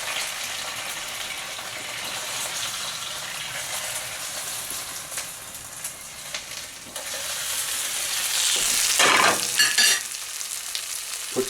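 Hot grease from pan-fried chicken cutlets is poured into a kitchen sink, a sizzling hiss that swells into a brief splashing gush near the end, heard up close with no talking.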